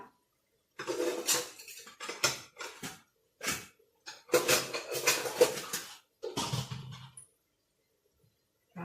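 Steamed fish and hot soup ladled into a dish: bursts of clinking and scraping from utensils against a pot and dish, with short pauses between scoops, close and fairly loud.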